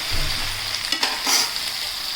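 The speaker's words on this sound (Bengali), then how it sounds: "এবার এটাকে আমি একটু ঢাকা দিয়ে কষিয়ে নেবো" Sweet potato, papaya, okra and pumpkin with salt and turmeric sautéing in a pan, a close, steady sizzle with a couple of quick stirring scrapes over a brief stretch.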